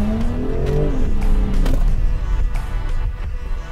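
A Jaguar F-Type with its active exhaust in sport mode revs hard, a loud rising engine roar that drops back and settles into a steady growl.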